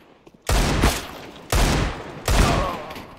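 Gunfire in the video game CS:GO, three loud bursts of rapid shots about a second apart, each cutting off sharply with short gaps of near-silence between them.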